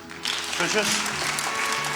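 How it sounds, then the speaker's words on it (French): A church congregation applauds during a French-language service, steady loud clapping throughout with voices and some musical or tonal sound mixed in beneath. "On peut les applaudir."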